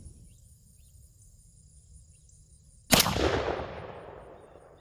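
A Mossberg 835 Ulti-Mag shotgun fires a single loud blast of Winchester Xpert HV 2-3/4" steel #4 shot outdoors, the report decaying over a couple of seconds over faint insect chirping.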